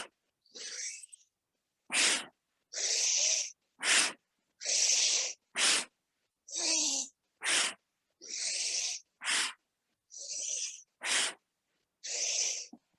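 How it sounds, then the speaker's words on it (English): Forceful bellows-breath exhales in a yoga practice, pumped from the navel: about a dozen sharp, breathy bursts in an irregular rhythm with short silent gaps, close and clear, no talking. "It's almost like a bellows breath. So you're pumping in the navel as you exhale the breath."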